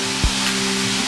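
Vegetables frying in a pan for fried rice give a short, steady sizzle with a soft low thump near the start, over a faint background hum.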